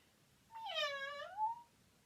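A person imitates a cat with a single drawn-out meow, rising and then falling, clear and close against a quiet background.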